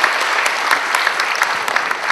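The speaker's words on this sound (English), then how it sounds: "Round of applause again for them." Steady applause from a seminar audience honouring the panelists, dense and continuous with many hands clapping at close range throughout.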